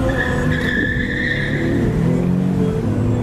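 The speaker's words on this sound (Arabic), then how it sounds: "شلون تشحط بعاصمة تكساس؟" Tires squeal as a car drifts on a Texas road, a steady loud skid with engine roar running the whole length, close and continuous with no talk.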